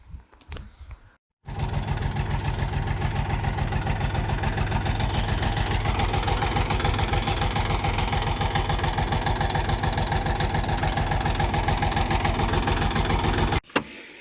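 A Kentavr tractor engine idles steadily nearby with an even, chugging mechanical rhythm after a brief quiet start, cutting off abruptly at the end.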